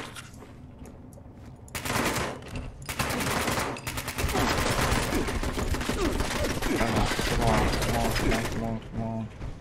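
Rapid video-game gunfire from Fallout 76, including a shotgun, erupts after a quieter start and continues as a dense, loud barrage of bursts and blasts, with voices talking over the fighting.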